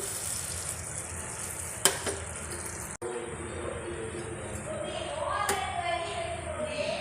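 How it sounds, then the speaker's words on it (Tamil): Beaten eggs, four of them, hit a hot pan for egg kothu chapati and fry with a steady sizzle, broken by a couple of sharp clanks and a scrape, while someone talks over it. "நான் நாலு முட்டை உடச்சி வச்சுருக்கேன் இதில் ஊற்றிக்கலாம்"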